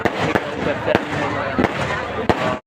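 Fireworks crack and pop at a crowded Dussehra Ravan Dahan festival at Atariya market, with several sharp bursts spaced through a steady roar of crowd noise and someone talking over it.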